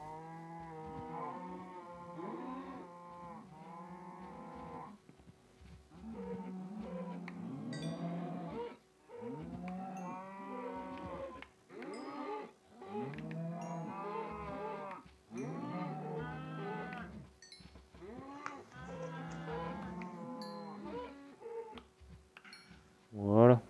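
Cows in Minecraft moo repeatedly, one after another in a steady series of drawn-out lowing calls, fairly close and clear with no talking.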